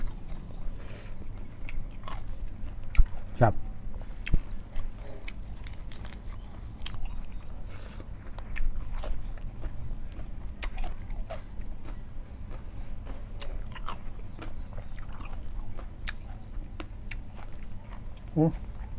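Someone chews sago palm weevil larvae with wet, crunchy bites that come irregularly over a low background, while a voice talks now and then.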